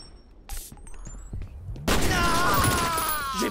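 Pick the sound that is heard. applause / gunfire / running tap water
gunfire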